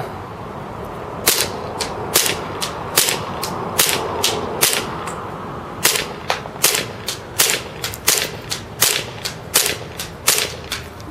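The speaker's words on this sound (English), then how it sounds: "So, fully loaded magazine with propane. So, I'll shoot it two-handed." A KWA CZ75 gas blowback airsoft pistol is fired on propane with a two-handed grip, producing sharp, loud snapping shots close by. The shots come singly and in quicker strings of about twenty, with no talking.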